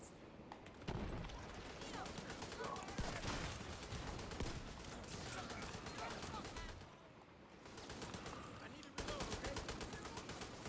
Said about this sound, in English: Look at her shooting her LMG.